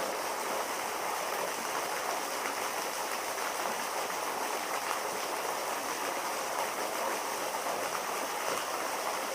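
A waterfall on Vancouver Island pours steadily into a pool below, a dense, unbroken roar of rushing water that stays constant and close throughout, with no voices.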